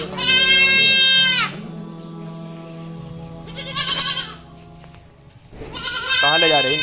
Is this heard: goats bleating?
yes